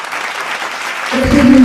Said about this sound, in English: Please give a big round of applause for all these toppers.